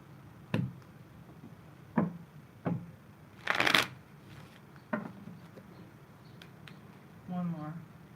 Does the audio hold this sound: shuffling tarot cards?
yes